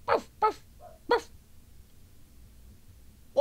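A dog barks three times in a quick sharp burst, then a small whine, a pause, and another bark at the end, close and fairly loud.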